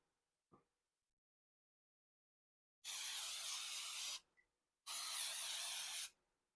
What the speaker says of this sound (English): right now, they spray the top and the bottom